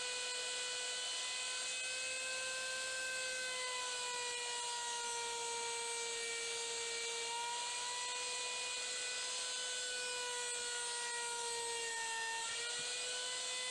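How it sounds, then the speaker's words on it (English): A homemade horizontal slot mortiser cuts a mortise in wood, giving a steady, fairly quiet high-pitched motor whine. The whine holds an even tone throughout, with no other sounds over it. "I'll show you cutting those pieces of wood. This is the mortise being created."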